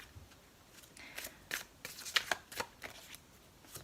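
Tarot cards are shuffled close by, quietly. Papery riffles and soft slaps come in short, uneven bursts, with no voices.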